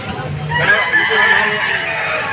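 A 7-month-old Pumpkin-line gamecock, banded and offered at a rooster market in Padre Garcia, Batangas, lets out a loud close crow that rises and holds across the clip over market background noise.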